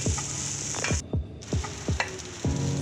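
Raisins sautéing in a hot pan give a continuous sizzle, broken by repeated short scraping strokes of a spoon stirring them, close and fairly loud, with no voices.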